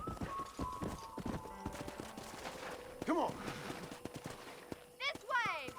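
Horse hooves clip-clopping at a walking pace in the Red Dead Redemption video game, steady and moderately close beneath frequent spoken dialogue, with a brief whinny.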